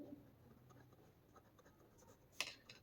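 Pen or pencil scratching across paper while working a class 9 maths equation, a faint, soft rustle throughout with a brief sharper stroke near the end, no talking.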